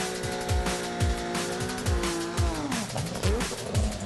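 A Nissan GT-R race car with a 3-liter engine and a very large turbo roars down the track, loud and close, with repeated revving pulls, gear changes and whooshing sweeps.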